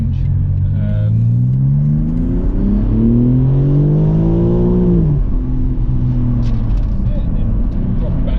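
BMW G81 M3 Touring fitted with a Remus OPF-back exhaust, revved from idle: a loud engine note climbs steadily to a peak, then drops sharply back to a settled idle, with a faint voice talking over it.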